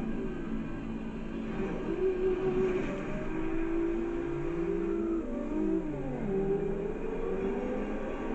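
Racing engines in Forza Horizon 2, a Lamborghini and a Supra, with a steady droning tone that climbs and falls through gear changes as the cars accelerate together, with no talking.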